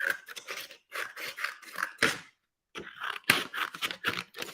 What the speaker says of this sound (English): I hear the sound, scissors cutting through the paper, making me very happy